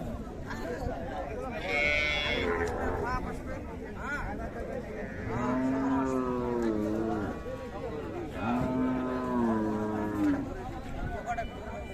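Cattle low repeatedly at a rural livestock market in Dinajpur where Friesian cows with calves are sold, with two long moos rising clearly over steady crowd chatter and nearby talk.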